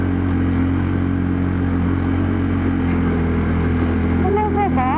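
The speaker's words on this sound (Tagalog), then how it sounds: "Sensya na, mahina ang motor natin." Motorcycle engine straining on a steep mountain road from Vigan to Mt. Kilang, a loud, steady low drone with rising whine tones near the end, heard up close with some faint voices in the background.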